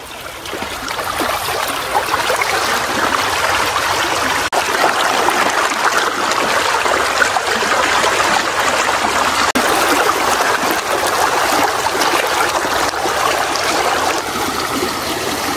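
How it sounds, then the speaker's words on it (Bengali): Stream water fed directly by a waterfall in a hilly village near a large banyan tree, rushing in a steady, loud, continuous flow with no talk over it. "এই যে এই ছড়াটা, এটা কিন্তু সরাসরি ঝর্ণা থেকে আসছে।"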